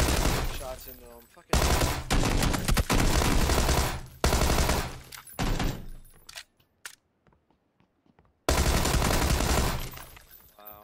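Bursts of rapid automatic gunfire from a shooter video game, loud and dense in several volleys with a brief quiet gap before the firing resumes.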